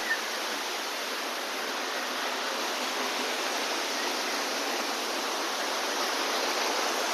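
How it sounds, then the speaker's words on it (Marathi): A waterfall beside a Mahadev temple at Lingdari in Chhatrapati Sambhajinagar district sends up a continuous, even roar of falling water that stays dense and unbroken, with no voices over it. "बाजूला आपल्याला हा सुंदर असा धबधबा बघूया आपण चला"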